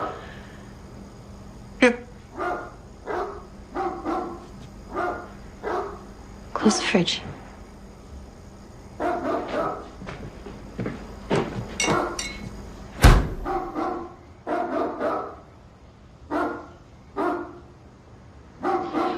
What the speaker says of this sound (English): could you please go get rid of the dog?